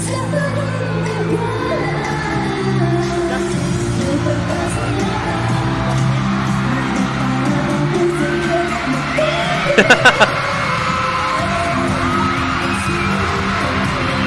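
Fans screaming at a performance at a Puregold event, a dense, sustained crowd roar with shrieks layered over amplified music, and a sharp cluster of bangs near the end.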